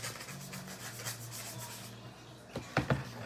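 Steady close rubbing and rasping comes from sanding a Jason mask by hand, a continuous scratchy texture that gives way to a few louder knocks and scrapes near the end.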